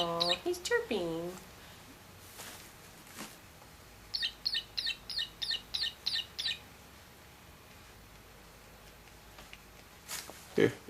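A toy chicken gives a quick run of about nine evenly spaced high chirps in the middle, with a child's squeals and an adult's voice nearby at the start and end.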